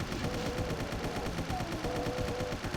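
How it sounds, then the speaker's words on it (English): Rapid automatic assault rifle fire from the Doom megawad The Lost Magic by Vortale, a dense, continuous stream of loud, close shots with no pauses. "this assault rifle just feels a tiny bit more satisfying to use than the chain gun"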